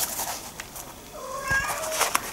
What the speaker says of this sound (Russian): Кошка, сейчас приду и пожрем вместе.